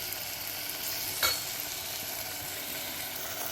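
Ingredients fry in a pan with a steady, bright sizzle while being stirred, one sharp scrape standing out near the start, and no one speaks.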